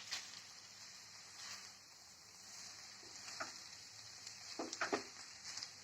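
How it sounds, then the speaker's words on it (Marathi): Chowmein noodles stirred in a hot pan with a little red chilli, a faint steady sizzle with soft scraping and clinks of a utensil, close by and quiet. "आता यांना ही चांगलं मिक्स करून घेऊ."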